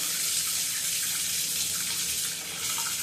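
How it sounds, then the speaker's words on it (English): A shower tap runs without pause, its dense even hiss of falling water close and loud, dipping slightly near the end, with no voices. "I'm going to turn the water on."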